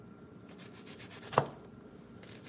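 Purple cucumbers, purple onion and purple garlic scapes being diced: soft rubbing and scraping with one sharp cutting snap partway through, close and quiet.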